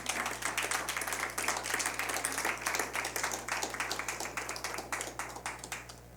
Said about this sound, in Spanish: Alguien déle un aplauso fuerte al Señor